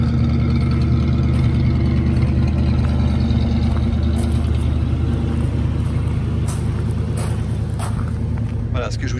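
A 1965 Ford Mustang convertible's engine runs at a steady idle, a deep continuous rumble heard up close with a voice talking over it.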